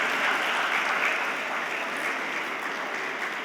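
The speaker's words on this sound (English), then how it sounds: "Clap for that person," An audience at a school graduation event applauds, a dense steady patter of many hands clapping throughout, fairly loud and even.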